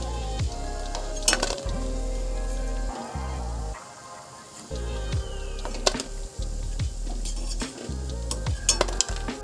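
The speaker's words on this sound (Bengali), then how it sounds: "আর একটা সাইড এইভাবে ভাজা হয়ে যাক" Potato peel fritters (bora) sizzle steadily in hot oil, with repeated metal clinks and scrapes of a spatula against the pan throughout.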